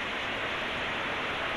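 Steady, dense hiss of rain falling, even and unbroken throughout with no voices.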